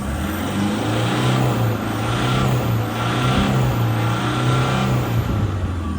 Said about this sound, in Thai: ผมเร่งให้ดูนะครับ ดูนะครับ ดูนะครับ